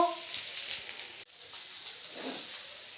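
Food frying slowly in oil in a pan gives off a steady, moderate sizzling hiss that holds throughout, with one brief dip partway through.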